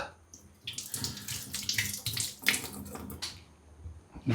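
Tap water runs in a steady, splashing stream while something is rinsed by hand, with soft clatter and a sharper knock near the end, close by and moderately loud.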